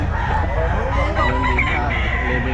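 Chickens and roosters at a pet market crow and cluck over one another, loud and close, forming a steady dense chorus with faint market voices mixed in.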